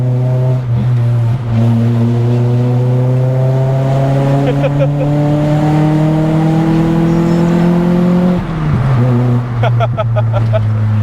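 A Nissan Pulsar SSS engine drones steadily and rises in pitch as it revs at about 50 km/h, then drops briefly at a gear change before climbing again, loud and close.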